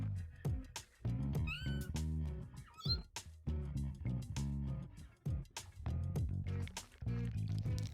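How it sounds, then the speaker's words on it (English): Jean, Travis's cat in the No More Heroes video game, meows several times in high, sliding cries while wet, squishy eating sounds continue around them. Game music plays steadily underneath and the whole thing sounds close. "She's a cute cat we gotta play with."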